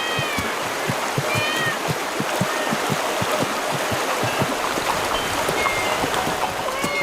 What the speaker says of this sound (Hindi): ये इतनी सारी बिल्लियां यहाँ क्या कर रही हैं?